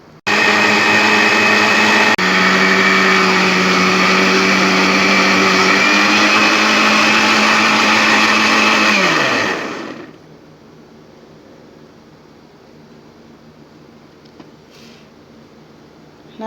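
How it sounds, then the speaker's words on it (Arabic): An electric mixer whisks eggs, vinegar and vanilla for crepe batter, a loud close whirring motor that shifts pitch a couple of times, then winds down and stops, leaving a low room hum. "هنا حبايبي راح نخفق البيض والخل والفانيلا"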